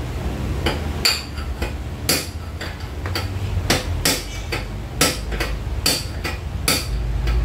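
Repeated sharp metallic hammer strikes drive out a ball race bearing on a Yamaha NMAX scooter's steering head, about a dozen close, loud clanks in an uneven rhythm with faint ringing between.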